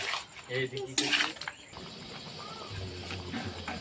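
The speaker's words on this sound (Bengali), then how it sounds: "করেছিলাম সেই মশলাটা দিয়ে দিলাম চিকেনে, দিয়ে লাড়িলাম" Chicken being stirred with a spice paste in a metal pan at home, a burst of scraping and clattering of utensil against pan, followed by quieter sizzling and background sounds.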